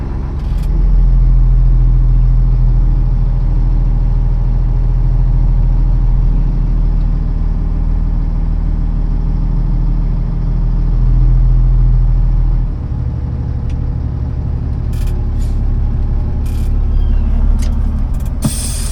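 A Volvo 6x6 dump truck reverses slowly along a farm ditch, its diesel engine a steady, loud, low rumble that dips slightly partway through, with a few faint clicks near the end and no talking.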